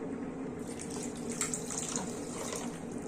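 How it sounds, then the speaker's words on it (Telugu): Water pours into sugar in a pan for sugar syrup, a short gushing trickle heard close and fairly soft, with no talk. "దీనికి 1/2 వాటర్ వేసుకోవాలి."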